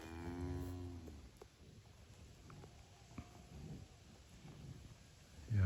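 A heifer gives one low, drawn-out moo at the start, close by, followed by quiet farmyard shuffling and faint background noise.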